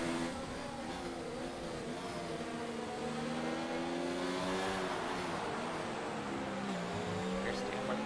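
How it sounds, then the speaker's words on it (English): F1 cars in a French Grand Prix video game roar through corners with a steady, buzzing engine drone and shifting revs, faint and continuous throughout. "You can just hear the cars bottoming out through the corners,"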